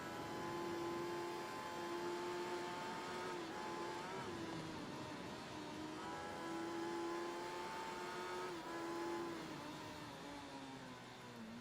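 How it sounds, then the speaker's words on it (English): Motorbike engine in the racing video game Ride 3, revving high and steady with rising and falling pitch as it accelerates through gears, loud and continuous with no talk. "Oh, it's got a bit of a beefy engine sound."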